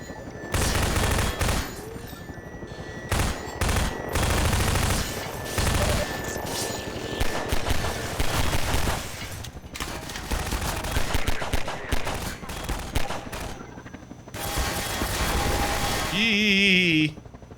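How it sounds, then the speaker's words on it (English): Dense gunfire from a Half-Life 2 gameplay session, with repeated bursts of shots and automatic fire rattling loudly throughout, broken by brief gaps and ending in a sweeping electronic sound. "How's the audio when, like, there's gunfire and stuff abound?"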